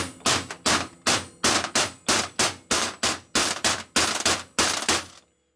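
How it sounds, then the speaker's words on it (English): A plastic hammer taps a bearing on a Revtech shovelhead Harley transmission during a rebuild, about a dozen sharp, loud knocks in an even rhythm, each with a brief ringing decay, then silence. "If you use a plastic hammer like this, you can beat on the center of it a little bit."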